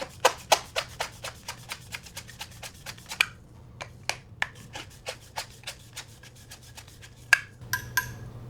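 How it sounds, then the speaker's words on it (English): A Reed deburring tool is twisted around the end of a plastic pipe to cut a chamfer, producing a close series of sharp rhythmic scraping clicks, a brief pause, then more clicks. "You put it on the end of the pipe and it's got a little blade and it spins around and cuts a chamfer into the top of the pipe"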